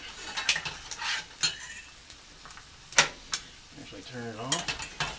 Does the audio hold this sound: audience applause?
no